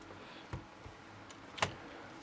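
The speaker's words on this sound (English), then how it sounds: "Let's take the top off." The plastic top case of a Toshiba HX-10 MSX home computer is lifted off after its screws are removed, giving a few quiet clicks and a sharper plastic snap and clatter in a quiet room.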